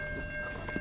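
A train rumbles past nearby, with a steady low roar and a sustained tonal whine riding over it through the whole moment.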